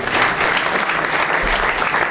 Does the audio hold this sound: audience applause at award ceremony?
yes